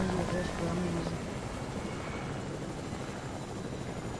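A helicopter in a video game gives off a continuous whirring rotor drone at steady loudness, with brief faint voice sounds near the start.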